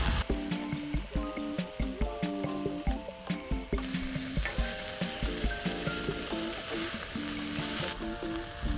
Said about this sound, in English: add the mighty broccoli. And mushroom, and stir until they begin to soften